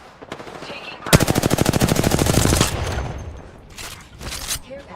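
A fast automatic weapon fires in Apex Legends, one rapid sustained burst of evenly spaced loud shots lasting over a second, then a couple of shorter bursts further off amid game sounds.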